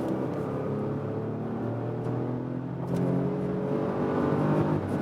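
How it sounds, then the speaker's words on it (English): A 2016 Porsche Cayenne GTS pulls hard accelerating uphill from 80 to 120, its rising whine and roar building steadily louder with a brief shift partway through. "Now let's go 80 till 120."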